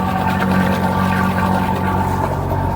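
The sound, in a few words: boat generator running with sound shield on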